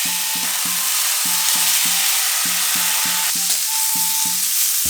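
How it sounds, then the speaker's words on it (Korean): Pork shoulder sizzles loudly and steadily in a hot pan, a constant crackling hiss with a faint repeating hum underneath. "이제 이 맛있는 앞다리살 구워보도록 하겠습니다."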